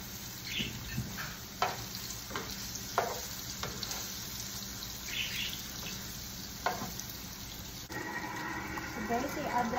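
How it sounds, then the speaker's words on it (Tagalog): Meatballs fry in a pan for spaghetti, a steady sizzle with scattered pops and scrapes of stirring running throughout, and a fuller wash of frying noise near the end. "ipa-fry na natin ang ating meatballs."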